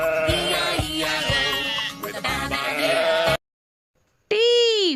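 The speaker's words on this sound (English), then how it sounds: "S for sheep." A sheep bleating loudly and close, a long wavering cry followed by a brief silence and then a second rising bleat.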